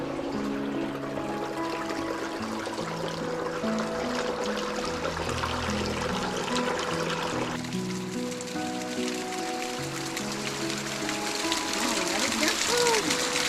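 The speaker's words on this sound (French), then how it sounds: "Avec la petite cascade devant l'entrée." Water splashes and pours steadily from a small waterfall at the entrance of a hot spring in Sicily, a continuous close rush with faint tonal sounds layered over it.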